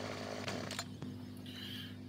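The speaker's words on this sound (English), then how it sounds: "Get rid of the chainsaw." Chainsaw running in Farming Simulator, a steady mechanical drone with a few brief clanks, heard on its own with no talking.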